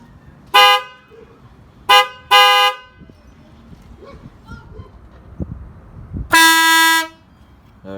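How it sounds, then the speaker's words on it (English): The stock horn of a fourth-generation Toyota 4Runner honks loudly and close by: two short beeps, a quick double toot, then one longer blast, with quiet gaps between. "I'm gonna do a sound check first on the stock horn"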